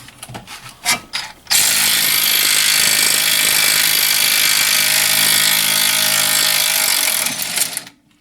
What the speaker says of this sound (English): I'm going to try to remove this bolt now that is holding the actual brake caliper bracket on